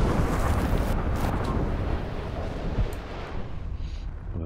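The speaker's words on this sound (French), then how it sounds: "L'orage approche." Stormy wind rumbles as a thunderstorm approaches in an Eric Chahi game: a steady, dense roar of wind and low rumbling, loud at first and easing slightly toward the end.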